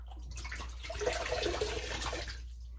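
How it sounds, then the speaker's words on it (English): Water runs from a tap in a soft, steady splashing stream, rising slightly in the middle before tapering off, quiet and close. "Do a cold water rinse here."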